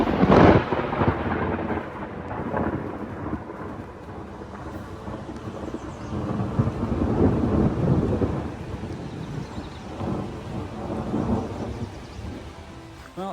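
Rain falls steadily on a canoe trail in northern New York with rolling thunder rumbling low and long, loudest at the start and swelling again midway, no voices.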